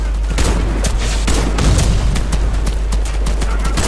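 Rapid automatic gunfire from the shooter game Warface rattles on continuously with sharp bursts over a heavy low rumble, loud and close, without a pause.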